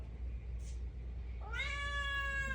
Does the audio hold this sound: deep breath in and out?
no